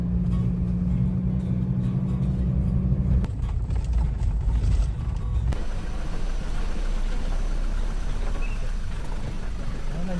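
A car engine labours uphill on a rough track near Kali Talang, Klaten, during an overland drive. The steady low rumble drones close and loud throughout, and its tone shifts partway through.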